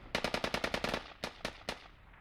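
Gunfire in a competitive video game match: a rapid burst of automatic shots followed by three slower, spaced single shots, loud and close with no voices.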